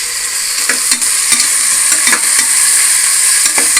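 Tomatoes sizzle and crackle steadily in hot oil with softened onions in a pan for vegetable biryani with capsicum, with repeated stirring scrapes every half second or so, loud and close with no talk.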